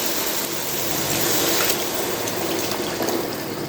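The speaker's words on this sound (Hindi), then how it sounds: "मैं इसमें थोड़ा सा पानी डालूँगी" Water poured into a pan of arbi curry during home cooking, a continuous splashing gush that runs steadily for a few seconds with no voices.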